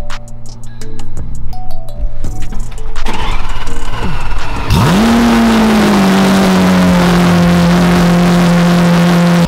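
A Ferrari 488 engine blips and clatters with several short revs, then climbs into a loud, sustained high rev that surges and holds steady, recorded up close.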